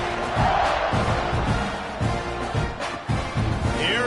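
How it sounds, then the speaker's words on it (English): A stadium crowd roars and cheers in a continuous loud wash with surging shouts, from a college football video game. "this crowd is feeling themselves after that last drive"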